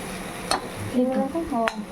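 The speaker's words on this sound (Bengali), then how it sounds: "আমরা পেঁয়াজ ভেজে আলু ভর্তা করা হচ্ছে পেঁয়াজ ভেজে লঙ্কা দিস" Onions fry in a pan for mashed potatoes, a soft sizzle under the clink and scrape of stirring, with voices faintly present.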